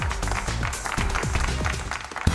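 A crowd applauds at a career fair, a dense, steady patter of clapping heard close and lasting a couple of seconds, with voices mixed in underneath.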